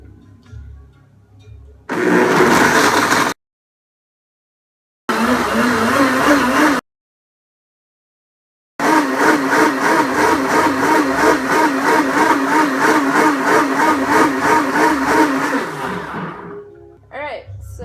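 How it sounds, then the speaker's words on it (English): A Blendtec blender on its smoothie setting whirs through a cacao shake of banana, rice milk, cinnamon and maple syrup, running loud and close in several bursts with short gaps before a long final run. "I just put it on the smoothie setting on my Blend Tech"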